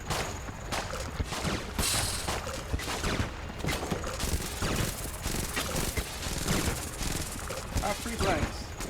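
Rapid bursts of gunfire and bullet sounds from the video game Enter the Gungeon, dense and continuous, layered with game effects and a voice talking over it.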